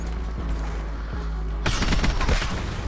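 Rapid VKM gunfire in Black Ops 4 breaks out partway through, a dense burst of automatic shots, loud and close, after a quieter stretch of low game ambience.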